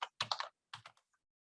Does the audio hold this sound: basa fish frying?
no